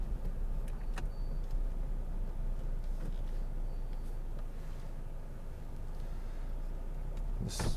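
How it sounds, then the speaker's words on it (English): Electric power window motor on a 2015 Toyota GT86 manual sports car, a steady low whirr running under cabin noise for several seconds, with a brief clunk near the end as the glass stops. "We've got electric windows."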